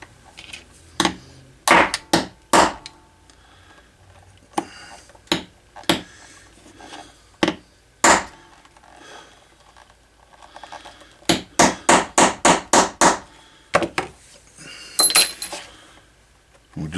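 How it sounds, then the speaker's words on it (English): A steel rivet on a leather holster being domed with a doming tool: sharp metallic taps come in irregular bursts, including a quick rapid run of strikes, close and crisp against quiet. "We just domed it a little bit there."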